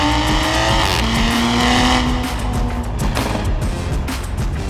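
A 2021 Toyota Supra accelerating hard on a canyon run, loud engine note rising in pitch with boost building, steady and close throughout.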